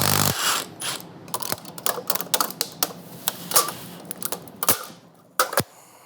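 A 13mm hex key on a ratchet works an engine bolt during teardown of a 5.3L L83 V8, giving rapid, close, irregular ratchet clicks and metallic taps.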